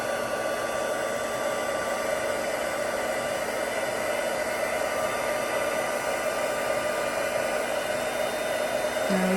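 A heat gun blows continuously while heat-setting embossing powder on a handmade card, a steady close hiss and whine of rushing air with no breaks, unaccompanied by talk.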